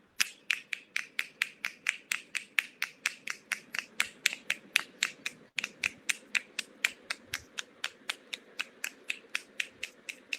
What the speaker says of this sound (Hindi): आई वॉन्ट टू हेयर कि 30 सेकेंड्स में कौन मैक्सिमम नंबर ऑफ स्नैप, चुटकी कौन बजा सकता है 30 सेकेंड्स नॉन स्टॉप